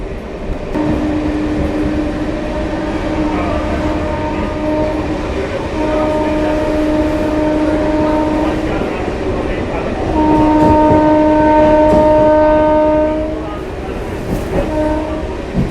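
An inaugural special train on the Amghata–Krishnanagar line runs along a curved section toward Krishnanagar City Junction, its steady rumble and clatter continuous throughout, with sustained horn-like tonal blasts sounding loudly from about the midpoint onward.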